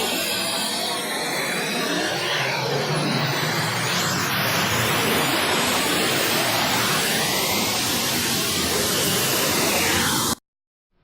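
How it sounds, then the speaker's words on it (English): Dense, loud broadband noise from an image converted to sound, with a swirling, shifting texture, sustained steadily for about ten seconds before cutting off abruptly into silence. "So lots of frequencies being played at high volume. Sort of sounds like swirling white noise."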